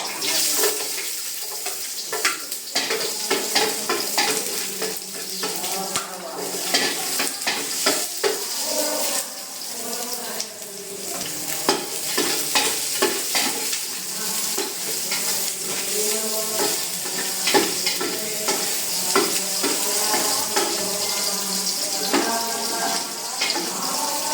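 Onion sautéing in a pan, a steady loud sizzle and crackle with occasional stirring and faint clatter, close throughout, with some speech and music-like tones faint underneath.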